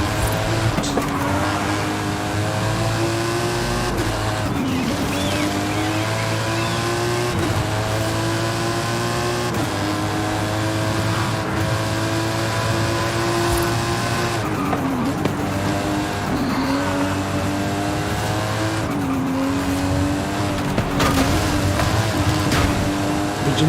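Porsche Carrera engine in Forza Horizon 5 droning loud and close, revs rising and dropping through gear changes with occasional tire squeal, no voices.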